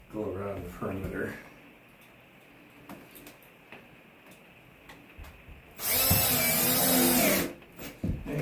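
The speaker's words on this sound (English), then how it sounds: "I'll screw up the middle first. And then I will go around the perimeter." A power drill drives a screw into a new RV floor during water damage repair, one loud whirring burst of under two seconds after a quiet stretch with faint talk at the start.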